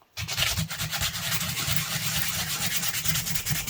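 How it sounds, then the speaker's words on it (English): Sandpaper is rubbed by hand over a wooden walking stick, making a continuous close, scratchy rasp with rhythmic strokes. It starts abruptly after a brief silence and stays fairly loud throughout. "And then you can clean it up afterwards, sandpaper it down."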